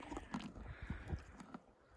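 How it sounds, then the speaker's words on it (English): A horse crunches treats from a person's hand, giving short irregular bites and chewing crunches at close range over a steady background hiss. "I love the crunch noise they make."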